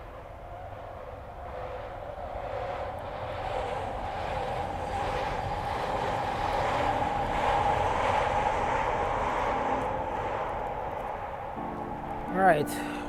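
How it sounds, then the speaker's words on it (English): A Scarborough RT train approaches along the elevated line in Toronto, a rising rumble with a steady mid-pitched whine that swells through the middle, followed by a brief squeal near the end. "there's a train coming."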